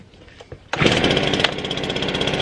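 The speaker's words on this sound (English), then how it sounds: "Let's go ahead and start the blower, and we'll get some corn going into the corn bin inside of the barn." A barn corn blower kicks on with a sudden loud mechanical start after a quiet moment, then settles into a steady, dense roaring whir with a rapid pulsing rattle, close and alone without talk.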